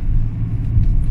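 Close, loud low rumble of a BMW 530d diesel engine under hard acceleration, with a steady deep drone and no talk over it.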